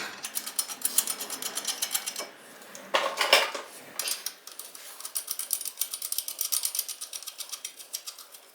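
Metallic ratcheting and clinking while a lug nut is run onto a wheel stud to hold a new front brake rotor on a C4 Corvette, rapid clicks in bursts with a short pause midway, close and clear.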